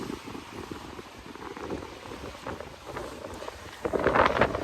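Strong wind, about 18 knots, buffets a microphone aboard a ketch-rigged sailboat making over six knots in big seas off the Pacific coast, a steady broadband roar that swells louder near the end.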